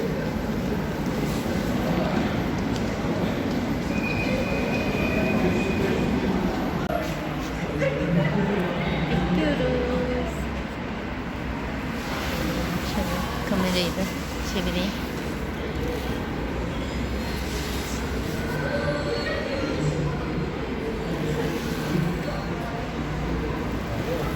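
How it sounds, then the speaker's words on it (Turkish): Steady loud rumble of a metro train pulling into a station in Bursa, with a continuous mechanical drone and faint crowd chatter throughout. "Çarşı metrobüsümüz, metromuzda geldi pardon."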